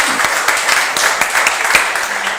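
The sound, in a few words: audience applause at a book presentation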